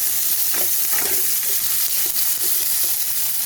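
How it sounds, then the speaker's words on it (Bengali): Pumpkin pieces frying in a wok with dried red chilli and a bay leaf, a steady loud sizzle with scraping stir strokes throughout, no voices. "ভালো করে ভাজা ভাজা করে নেব।"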